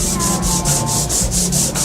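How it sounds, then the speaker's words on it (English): Bathroom cabinets being sanded back down, a steady rhythmic scraping of sandpaper over painted wood that repeats in even strokes, close and fairly loud with no talking. "And now we're sanding it back down again."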